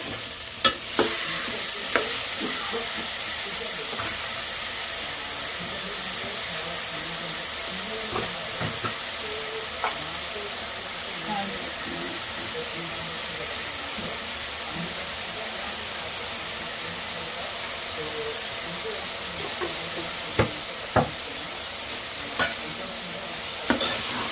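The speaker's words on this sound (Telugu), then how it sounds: "ఒకసారి కలుపుకుందాం. కలుపుకుంటే కొంచెం ఇలా అంతా మగ్గుతుంది." Ridge gourd and egg curry stirred in a frying pan, with a steady close sizzle throughout and occasional sharp scrapes and taps of the spoon against the pan.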